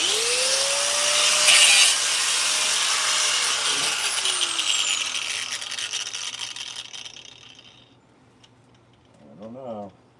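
A power saw cuts wood in a workshop where a forge door is being built, giving a loud whining rasp that slowly spins down and fades, with a brief voice near the end.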